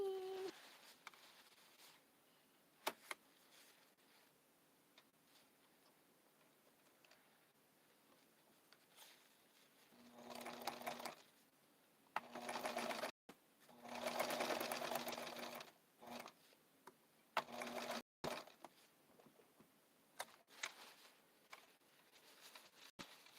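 A sewing machine stitches the shoulder seam of blue coattails, with quiet ticking at first and then several bursts of rapid, rhythmic stitching broken by short pauses, fairly close and moderately loud.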